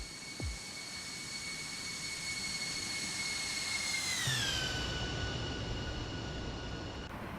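A Boeing 747 freighter in Atlas Air retro livery roars past in a flyby in the simulator X-Plane 12, a sustained loud jet whine whose pitch sweeps down as it passes, with no talking.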